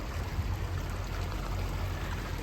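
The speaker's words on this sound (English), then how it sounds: "Hear the sound of the water." Steady broadband rush of flowing water from a stream beside a spot where a truck and trailer could park, continuous and fairly close with no voices.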